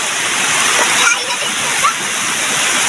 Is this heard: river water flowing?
yes